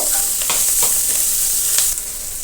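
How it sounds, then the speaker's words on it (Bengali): Turmeric, chili powder and salt sizzle in a hot pan while being stirred, a steady bright frying hiss broken by a few short scraping strokes, close and without talk. "একটু নাড়াচাড়া করে কষাইতে থাকবো"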